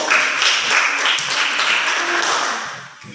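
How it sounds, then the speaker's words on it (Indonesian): Applause from a classroom audience during a teaching practice session, a dense patter of clapping held steady throughout before easing off near the end. "tepuk tangan untuk"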